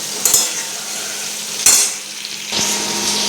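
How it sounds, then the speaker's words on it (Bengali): Pointed gourd frying in a pan on a home stove during everyday cooking, a steady close sizzle broken by three short clinks of a spatula scraping and stirring. "পটল ভাজা হচ্ছে"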